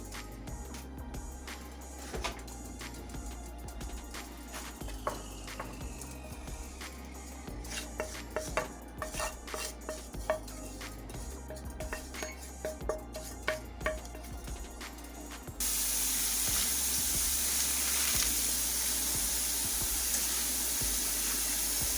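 Rinsed spinach cooking in a pot and being stirred, with scattered clinks, soft squishing and scraping for most of the stretch, then a sudden steady loud hiss of sizzling or running water near the end.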